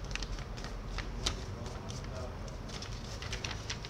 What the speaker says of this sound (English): So you need an A4 like this and your two hands. So step one, you fold